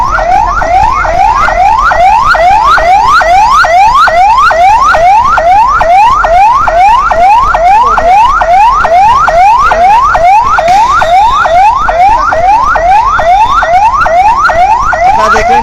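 Siren wailing during a street confrontation between police and students in Sylhet, as an injured police officer is taken to hospital by ambulance; a loud, steady rapid rising sweep repeats about twice a second, continuous for the whole stretch.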